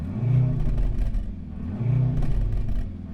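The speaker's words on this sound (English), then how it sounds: "it's making like a sort of like poppy bangy sound here on the inside, but I'm not sure if it's synthesised" Inside the cabin of a Mercedes-AMG car, the engine rumbles and revs in two low swells, with faint crackling pops from the exhaust under the drone.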